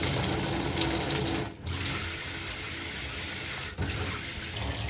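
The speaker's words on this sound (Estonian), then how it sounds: "Näed sa, tulebki vesi." Water runs loudly and steadily from a newly installed Hansgrohe shower mixer in a bathroom under renovation, with two brief dips where the flow is interrupted.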